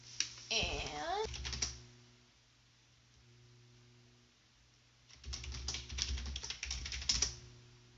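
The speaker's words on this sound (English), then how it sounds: "so that you can actually type in the password" Bursts of quick clicking keystrokes on a computer keyboard, one flurry near the start and a longer run later, with a quiet pause between and low background hum.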